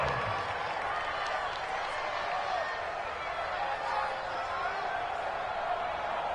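Simulated stadium crowd in a PS4 football game cheering ahead of a big third down, a continuous roar of cheering and applause at a steady loud level, with a voice talking faintly beneath it.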